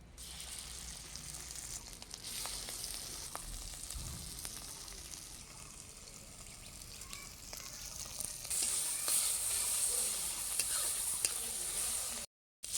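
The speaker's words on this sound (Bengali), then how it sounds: "লাল লাল করে মাংস বাটা হয়ে গেছে, বাটা ভাজা হয়ে গেছে" Ground chicken meat paste sizzles and fries in a wok, a steady close crackle with occasional scraping stirs throughout, growing slightly louder near the end before a brief cut.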